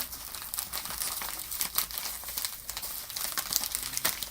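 Wrapped Panini Mosaic football card packs are torn and ripped open up close, a busy run of crinkling foil and paper tearing that continues without pause.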